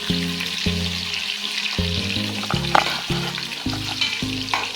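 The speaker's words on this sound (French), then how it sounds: "Je fais revenir au-dessus les oignons. Voilà, je vais laisser dorer quelques minutes." Onions frying in a pot with grilled mbunga fish skins and heads for a creamy cabbage and roasted peanut sauce, a steady close sizzle with scraping stirs and faint background music tones, no talk.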